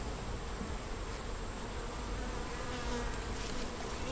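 Honeybees buzz steadily around a small, slow-building nuc hive, a continuous close drone of many wings at moderate level with no talking.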